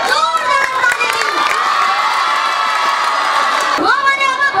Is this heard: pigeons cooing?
no